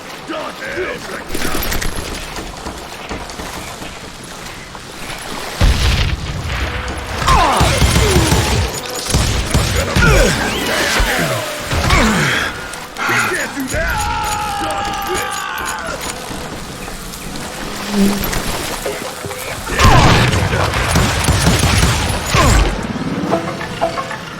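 Gunfire in the Western shooter game Call of Juarez Gunslinger, loud crackling shots and booming impacts in bursts amid crashing and mechanical clatter, with a voice talking over parts of the fight.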